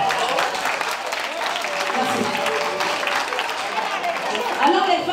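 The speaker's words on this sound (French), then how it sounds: "Applaudissez pour vous." An audience at a live concert in Toulouse claps and cheers in a dense, sustained burst of applause, with a voice speaking over the crowd noise throughout.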